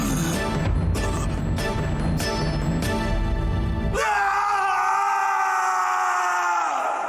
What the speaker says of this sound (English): Oh my god, I love that scream.